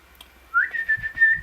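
A single clear rising whistle held as a steady tone for about a second, close and fairly loud, with faint rustling around it.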